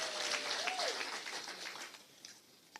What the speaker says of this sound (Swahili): Situpigie waziri makofi kwa sababu ya kukututembelea.